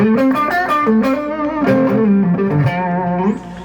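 Electric guitar through a mild overdrive pedal switched by a Boss MS-3, melodic notes and chords ringing out steadily, played alone and close.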